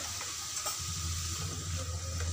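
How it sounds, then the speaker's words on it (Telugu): Raw carrot pieces stirred with salt and turmeric in a pan for a carrot fry, a faint low sizzle with soft scraping from the spoon, brief and quiet, no voices. "ఒకసారి బాగా మిక్స్ చేసుకోవాలి"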